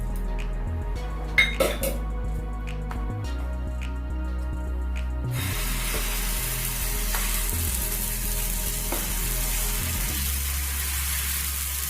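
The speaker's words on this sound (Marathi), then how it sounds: "गरम तव्याला तेल ग्रीस करून घ्यायचं आहे ब्रशने" A hot griddle sizzles steadily as oil is brushed across it for oats uttapam, with a few light metallic clinks early on and a continuous frying hiss.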